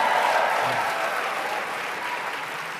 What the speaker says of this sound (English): give yourselves a tremendous round of applause